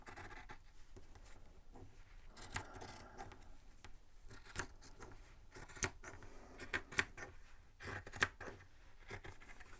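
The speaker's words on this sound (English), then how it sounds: "It feels funny to be cutting through all those seams, but I have to." Scissors snip and crunch through thick quilted fabric and layered seams for a quilted baby journal cover. The cuts come as irregular, close scratchy strokes, fairly quiet, with no one talking.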